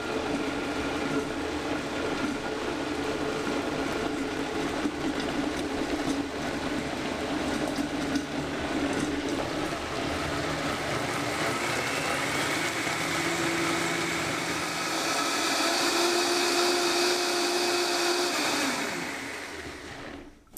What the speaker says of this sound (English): a high-powered blender like this Vitamix here does a much better job